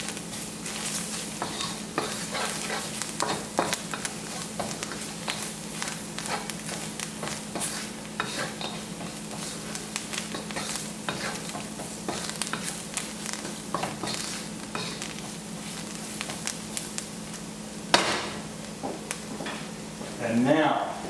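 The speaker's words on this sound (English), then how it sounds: "We're going to give that a good stir. Mix it up and make sure all of these ingredients are well incorporated." Spices and ground mustard seeds stirred in a pan for a Sri Lankan eggplant curry, giving a soft, steady sizzle and scraping with frequent utensil taps, ending in a louder clatter.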